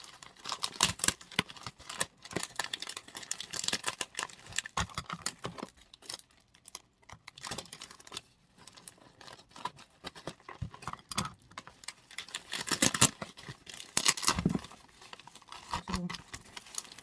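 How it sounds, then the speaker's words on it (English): Scissors cut open a cardboard shipping package holding an eyeshadow palette. Quiet, irregular snips and crinkly clicks come close to the microphone in uneven bursts over about seventeen seconds. "I'm going to cut it."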